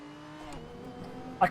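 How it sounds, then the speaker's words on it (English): A steady race car engine in a racing video game drones at an even pitch, fairly quiet and constant, before a brief sharp burst of noise at the end. "The engine sounds really good, actually."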